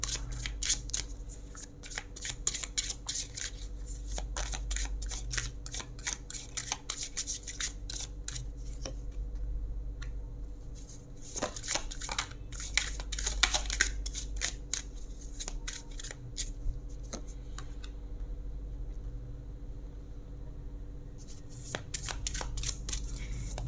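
Tarot cards shuffled steadily by hand, a continuous close riffling and flicking that runs on with brief pauses, no talking.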